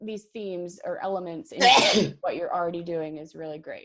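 A single sharp sneeze bursts out loudly in the middle of someone's ongoing speech, with talking right before and after it.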